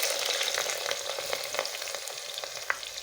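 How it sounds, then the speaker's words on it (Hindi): Chopped onion frying in hot cooking oil inside a clay handi gives a steady close sizzle with scattered crackles and pops, with no voices. "ऑयल गर्म होके फिर हमने प्याज डालने इसको"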